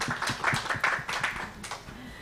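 A conference audience claps in a short, light burst of applause, the rapid hand claps close together for about two seconds.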